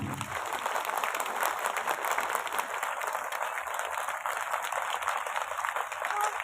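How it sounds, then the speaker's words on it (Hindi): Applause from a gathered audience at a Buddhist event honoring Emperor Ashoka, a steady wash of clapping that stays even and somewhat distant throughout. "सम्राट अशोक की स्मृति में उनके लिए एक जोरदार ताली बजा दें"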